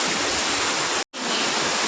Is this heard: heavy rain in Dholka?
yes